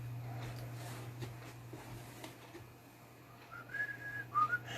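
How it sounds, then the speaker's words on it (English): Somebody whistles faintly inside a gas-lamp-era building, a few short rising tones toward the end. They sit over a steady low hum and quiet room noise. "Does somebody whistle in here?"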